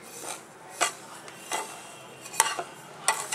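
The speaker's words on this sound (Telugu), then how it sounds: "సో రవ్వ బాగా వేగాలండి" Semolina (rava) toasting in ghee in a pan, a soft low hiss punctuated by four or five distinct metallic scrapes and taps of a spoon stirring against the vessel.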